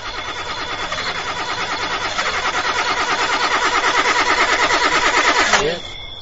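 A car engine cranks over and over without catching, a rapid rhythmic starter churn that builds in strength for several seconds, then cuts off abruptly, followed by quiet.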